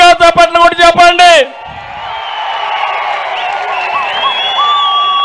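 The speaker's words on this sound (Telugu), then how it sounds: "చేస్తామని గట్టిగా చప్పట్లు కూడా చెప్పండి." A political rally crowd at a Jana Sena and Telugu Desam event bursts into applause and cheering right after a loud amplified speaker's voice, the clapping and shouts filling the space steadily and building toward the end.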